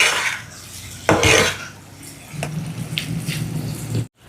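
Fried paneer pieces get stirred into a masala in a pan, with clanking pan and utensil knocks and a scraping stir over a low sizzle, and no talking.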